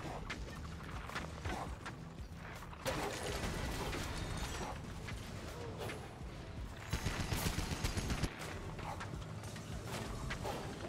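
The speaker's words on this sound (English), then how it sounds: "I'm laying down suppressive fire." Sustained turret gunfire in the video game Gigantic: Rampage Edition, a dense, continuous clatter of shots with a louder burst partway through, mixed with mechanical battle noise.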